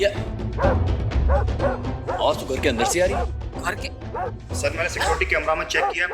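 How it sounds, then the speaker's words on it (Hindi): Several dogs bark and yip in loud, repeated bursts inside a house, mixed with people talking over them. "कुत्तों के इतने जोर जोर से भौंकने की आवाज कहाँ से आ रही है?"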